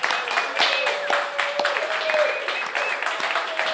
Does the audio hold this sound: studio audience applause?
yes